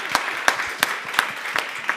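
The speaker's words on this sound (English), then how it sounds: "Can you give them a nice warm clap" Warm applause from an audience at a talk on fishing without bycatch: a small crowd claps steadily with a few sharp, distinct claps standing out near the listener, no talk over it.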